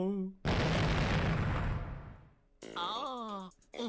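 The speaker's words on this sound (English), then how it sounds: "The explosion sound effects are a bit much." Game explosion sound effect from Higurashi When They Cry: a heavy boom that rolls off over about two seconds, framed by short bursts of synthetic voiced sounds before and after.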